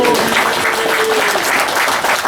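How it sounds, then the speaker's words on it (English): An audience at a carp fishing society open weekend claps in a steady, dense round of applause, loud and continuous throughout with no talking over it. "Give her a round of applause."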